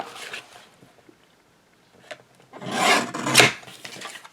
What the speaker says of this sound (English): I'm going to trim off the back, but I'm going to leave a little extra room.